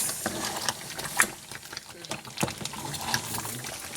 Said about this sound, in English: I will stir it like this.